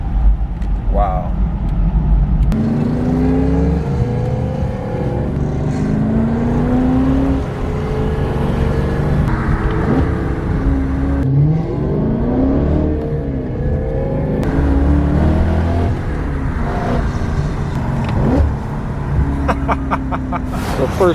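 A 340,000-mile BMW E39 M5 with a Dinan Stage 2 setup and a very loud exhaust rumbles and revs while driving, its engine note rising and falling continuously under people talking.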